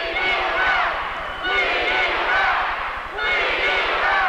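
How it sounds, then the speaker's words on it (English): A crowd at a 1987 Canton Invaders vs Louisville Thunder indoor soccer game roars in three loud surging waves of booing and shouting at the officiating, filling the arena with dense, sustained noise. "And the crowd voicing their opinion of the officiating"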